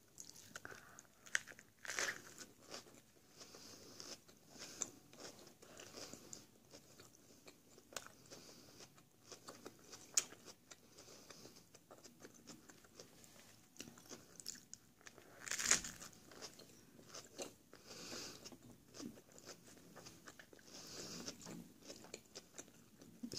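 Someone chewing a ham, lettuce and salad cream sandwich up close, with soft repeated crunches and moist bites spread irregularly over a quiet background.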